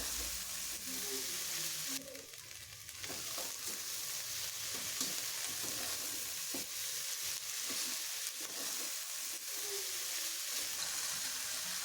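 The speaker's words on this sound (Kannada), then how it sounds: "ಇದನ್ನು ಒಂದು 2 ಸೆಕೆಂಡ್ ಫ್ರೈ ಮಾಡ್ಕೊಳ್ಳೋಣ." Ingredients for a sprouted horse gram sambar fry quietly in a pan, a soft steady sizzle with intermittent stirring scrapes and clinks, fairly faint and close.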